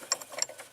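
A car's handbrake adjuster is tightened, giving a quick run of faint, close mechanical clicks like a ratchet, with no talk.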